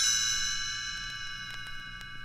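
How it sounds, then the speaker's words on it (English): Chimes ring as a page-turn signal in a read-along story. Sustained, shimmering bell tones decay slowly while a few light, quick strikes sparkle on top, soft and alone with no voice. "You will know it is time to turn the page when you hear the chimes ring like this."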